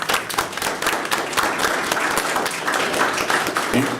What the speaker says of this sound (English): I just want to thank you and give you all a round of applause